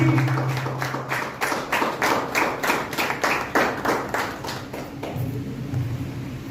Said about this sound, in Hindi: जोरदार खड़े होकर तालियां, जोरदार तालियां